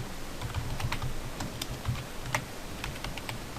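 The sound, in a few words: typing on a computer keyboard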